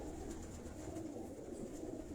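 A pigeon coos softly and steadily against a faint, continuous background murmur, the low throaty calls blending into one another across the short stretch with no voices present.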